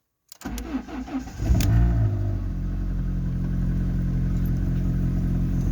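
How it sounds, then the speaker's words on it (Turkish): A Fiat Bravo with a crankshaft sensor fault and slow starting cranks briefly with a stuttering whir, then catches and settles into a steady, loud idle close by. "Şu araca bir marş yapayım."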